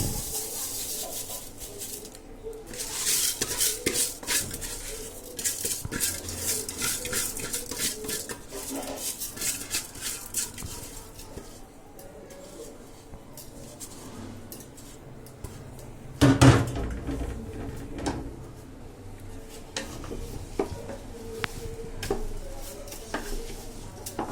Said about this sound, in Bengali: তেলটা গরম হয়ে গেছে, এখন চালগুলি দিব।